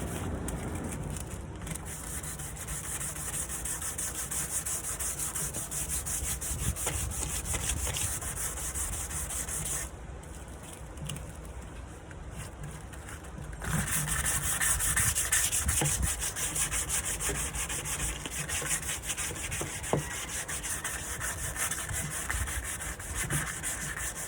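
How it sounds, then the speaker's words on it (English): Sandpaper rubs back and forth across a wooden night table in a continuous scratchy hiss, rhythmic strokes carrying on for the whole stretch, easing briefly partway through and then returning stronger. "So let's go ahead and start sanding"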